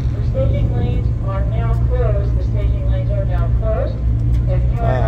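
A drag-built Toyota Corolla with a 350 engine swap sits at a quarter-mile dragstrip, its engine a steady, deep, loud rumble running continuously under someone talking.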